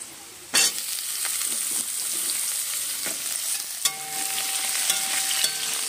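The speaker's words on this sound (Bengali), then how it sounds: "পটলগুলো দিয়ে একটু নেড়ে চেড়ে নিয়ে" Pointed gourd pieces sizzle steadily in hot oil as they are stirred in a pan for a mixed vegetable dish, with a sharp clatter of the spoon early on and occasional scraping under the continuous frying hiss.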